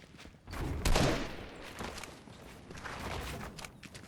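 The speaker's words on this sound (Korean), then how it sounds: "타임 선수 유일하게 총소리를 내고 있어요" Faint bursts of video game gunfire crackle in the distance, a cluster of shots followed by scattered quieter pops.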